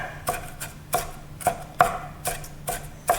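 A knife finely chopping ingredients on a cutting board for Tom Kha Gai soup, steady crisp knocks about twice a second, close and clear with no talk.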